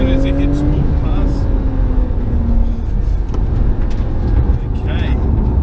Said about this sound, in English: did you hear that downshift as soon as it hit Sport Plus?